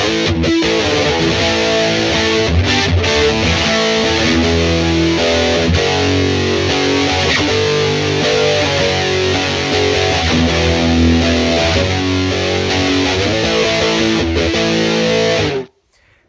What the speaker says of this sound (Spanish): Agreguemos a lo mejor alguna modulación, un chorus podría ser.